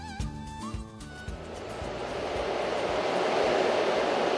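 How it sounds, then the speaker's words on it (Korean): A high-speed train crosses the Shandong plain beside a canal: a broad, steady rushing roar that swells and fills the clip after a short burst of tonal sounds at the start. "산동성의 평야를 가로지르는 고속열차를 타고 빠른 속도로 물길 옆을 달려갑니다"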